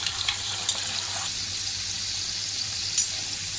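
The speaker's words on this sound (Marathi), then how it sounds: "आता आपण छान एकदम ही सुद्धा आपल्याला ब्राऊन रंगावर येईपर्यंत बटाटे तळून घ्यायचे" Potatoes frying in oil over a medium flame until brown, a dense, even hiss of sizzling that carries on steadily at close range with a few faint clicks from stirring.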